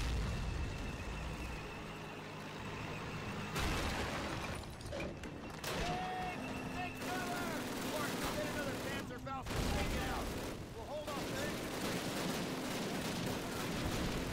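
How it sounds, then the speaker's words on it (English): Video game mortar fire and battle noise from Call of Duty: a dense, continuous wash of distant blasts, pops and gunfire, with someone talking over it at times. "There's the mortar teams again."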